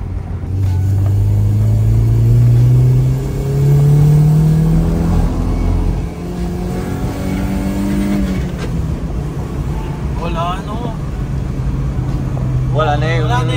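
A 1999 Honda Civic SiR engine with a chambered muffler and top-fuel intake revs and drones loudly, with a deep, throaty exhaust rumble rising and falling; people talk over it.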